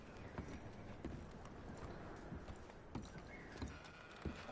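Horse hooves clip-clop in Red Dead Redemption 2, a steady series of soft, fairly faint thuds over low ambient background noise with no talking.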